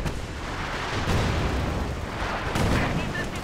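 A ZiS gun artillery barrage in a Company of Heroes 2 match, with repeated heavy shell impacts and booms layered over a dense battlefield rumble, and a voice talking beneath it.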